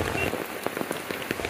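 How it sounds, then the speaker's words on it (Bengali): Steady rain falls at night, a dense patter of drops on surfaces with scattered louder splashes, close and continuous with no talking. "বাদ বাকি আধা ঘন্টা এইভাবেই বৃষ্টি হয়েছে অনেক"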